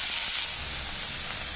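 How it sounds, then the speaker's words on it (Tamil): A steady, close sizzle of onions and curry leaves frying in hot oil hisses on without pause. "கொஞ்சம் கருவேப்பிலை சேர்த்து நல்லா வதக்கிக்கலாங்க."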